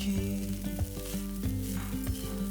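Boiled rice with cumin seeds, coriander leaves and ghee being stirred in a pan, a soft steady sizzle with scraping stir strokes close by, set under a melodic music track and no speech.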